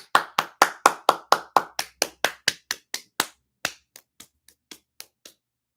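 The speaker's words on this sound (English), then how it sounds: "That's applause for Jason." Small-group clapping for Jason on a casual episode, about twenty sharp claps in an even rhythm that thin out and slow toward the end, close and fairly loud with no talk.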